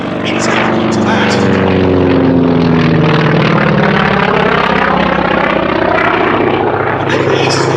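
A Grumman Wildcat FM-2 warplane flies at an airshow, its propeller engine droning loud and steady throughout with a rising, shifting tone, while someone talks over it.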